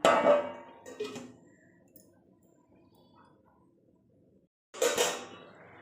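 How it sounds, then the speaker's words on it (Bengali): A metal plate is set down as a lid over a pan of cooking greens, with a clattering clink at the start and another sharp metallic rattle near the end, faint quiet between. "এবার আমি একটা থালা ঢাকা দিয়ে দেব"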